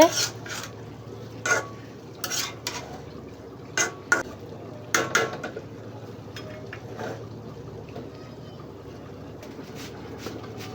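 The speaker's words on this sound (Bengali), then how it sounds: "ঢাকনাটা খুলে আম্মু আবার একটু নাড়াচাড়া করে দিচ্ছে।" Opening a pot lid and stirring a village-style curry of chicken feet, gizzard and liver: a handful of sharp metallic clanks and scrapes, some clustered, over a low background hum with faint voices.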